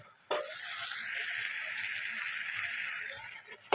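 Fried potatoes drop into a pan of spiced masala and set off a steady, fairly soft sizzle that starts abruptly and holds evenly for a few seconds, with no voice over it.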